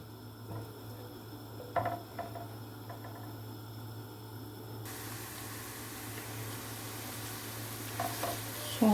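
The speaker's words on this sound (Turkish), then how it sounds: "soğanlarımızı kavurmaya devam edelim. Hafif pembeleşene kadar soğanları kavuralım." Chopped dry onion sautéing in a pan, a steady soft sizzle with occasional stirring scrapes; a louder broadband hiss comes in partway through, with no talking.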